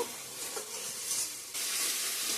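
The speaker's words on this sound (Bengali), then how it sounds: "ফুলকপি আলুটা ভালো করে কষিয়ে নিয়েছি তেল ছেড়ে দিয়েছে ভেজে রাখা আলু ফুলকপিটা দিয়ে দেব" Fried cauliflower and potatoes sizzle in hot oil, a steady bright crackle that swells louder halfway through, close and continuous with no voices.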